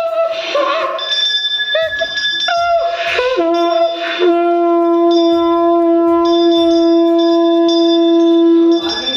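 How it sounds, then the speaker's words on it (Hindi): A conch shell (shankh) is blown outdoors in a hill village. After a few short, faltering attempts under brief voices, it settles into a sustained, steady droning tone held for several seconds. "फाइनली चाचा ने शंख बजा दिया।"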